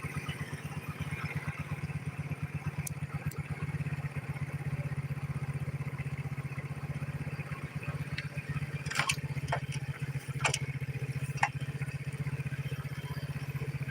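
A moped idles just after starting, its low, even putter thrumming close and steady, with a few sharp clicks and knocks near the end.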